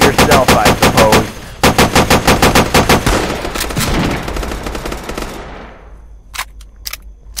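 A Humvee-mounted turret machine gun in a video game fires long, rapid bursts, loud and close, then breaks off into a few isolated shots after a short pause, with faint talk underneath.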